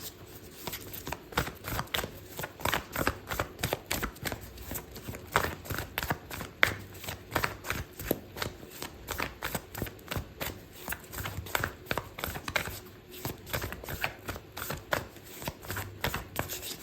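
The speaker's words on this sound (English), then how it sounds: "I'm going to pull out an oracle card for you" Oracle cards are shuffled steadily and closely for a long stretch, a rapid run of dense papery riffles and soft slaps with no talking.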